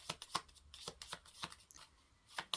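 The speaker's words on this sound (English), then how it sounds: "I'm going to give these a quick shuffle." A quick riffle of tarot cards being shuffled, a series of soft crisp flicks close by, repeated several times in short bursts.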